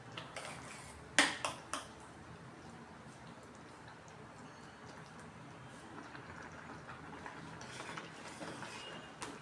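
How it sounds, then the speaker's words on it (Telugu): A spoon scrapes and clinks against a pan as an apricot dessert mixture is stirred, with a few sharp knocks early on, then softer, steady scraping over low background noise. "ఇప్పుడు కలుపుతున్నా. ఇప్పుడు తిప్పుతా."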